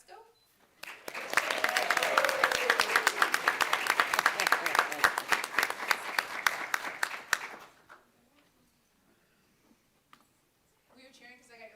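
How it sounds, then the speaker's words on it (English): A school board meeting audience bursts into loud, sustained applause with scattered cheering for about seven seconds, then fades to near silence before a voice resumes speaking. "We were cheering because I got your last name right?"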